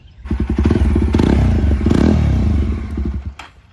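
A Jawa Bobber 42 with a 350cc engine runs loud and close, its exhaust firing in a fast, even thumping rhythm that swells briefly into a rev, then settles back to a chugging idle before cutting off.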